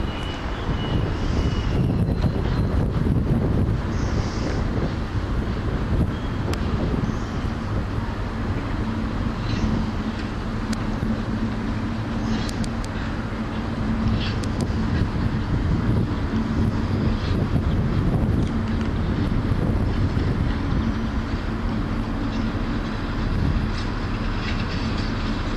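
Class 70 diesel locomotives creeping into Leicester station, a steady loud low rumble and drone that holds throughout with no clear peaks and no speech.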